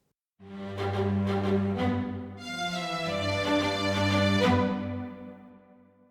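A string arrangement for a children's space-adventure song swells in with sustained, layered chords, builds richer and fuller midway, then fades gently away at the close, with no voices.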